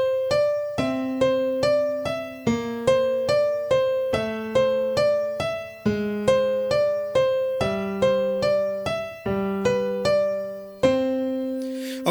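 A piano plays a melody of single notes from Scott Joplin's "The Entertainer" in a steady rhythm, each note clear and separate, with a low sustained note beneath, no voices.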